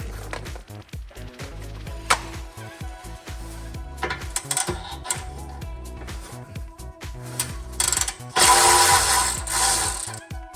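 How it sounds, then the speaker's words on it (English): Hand tools, with the ratcheting clicks of a wrench, loosen the clamps on an X-pipe exhaust, giving steady mechanical clatter and metallic clinks up close. "Now, I have to take these clamps off."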